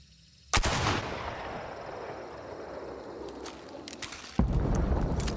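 A new medium-slot sniper rifle fires in Hunt: Showdown 1896, two loud sharp gunshots about four seconds apart, each trailing into a long rolling echo, with no talk.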